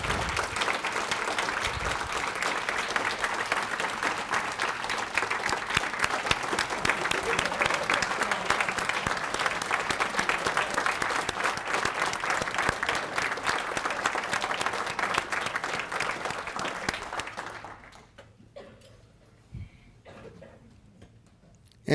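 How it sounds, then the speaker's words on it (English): Hearty, sustained applause from a conference audience, a dense wall of clapping for about seventeen seconds before thinning out to a few scattered claps and near quiet. "we should give him and his colleagues a huge round of applause"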